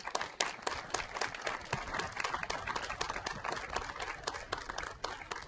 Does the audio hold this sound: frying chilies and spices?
no